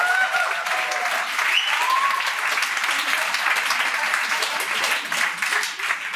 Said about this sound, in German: Applaus für Gusto!